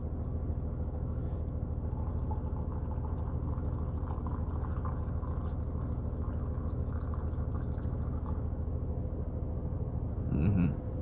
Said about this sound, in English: I'm pouring my tea right here